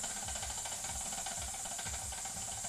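A ceramic ramekin rattles against the bottom of a pot of boiling water while cooking eggs Benedict, a steady hissing boil with faint repeated clinks and bumps underneath.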